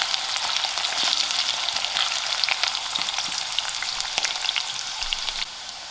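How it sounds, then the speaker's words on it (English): Onions frying in a pan until golden brown, a dense, loud, even sizzle with faint crackles and the odd stir, continuous throughout and easing slightly near the end. "I'll allow these onions to come into a golden brown color"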